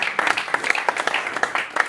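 Applause from the audience at a press conference for a fight event, short and fairly close, with individual claps audible and some voices mixed in, lasting under two seconds.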